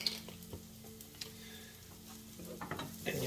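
Coconut curry chicken ingredients with coriander being stirred together in a pan, giving soft scraping and a light sizzle, close and fairly quiet, with small clicks of the utensil.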